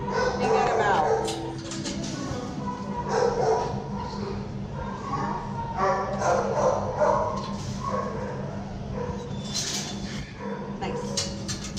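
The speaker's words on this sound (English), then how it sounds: "So I'm ignoring the barking behavior and I'm rewarding the quiet behavior." A dog on a leash barks inside a kennel in short, repeated yips and woofs spread across the stretch, with steady background noise and occasional clatter underneath.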